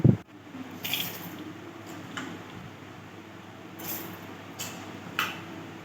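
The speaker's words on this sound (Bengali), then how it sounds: "আমি ভালো করে আবারও কচলে কচলে ভালো করে ধুয়ে নেব" Soaked lentils for an amriti batter are rinsed and rubbed by hand in water, giving soft sloshing and splashes with a few brighter bursts, close and fairly quiet.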